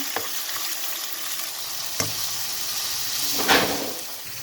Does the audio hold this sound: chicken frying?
yes